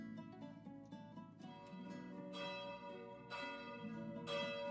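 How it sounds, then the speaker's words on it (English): Several bells ring together in a distant town, layered overlapping peals with steady tolling and swelling bursts, continuous and fairly faint with no talking. "As you're approaching the town of Orlane, you yourselves also hear the ringing of bells."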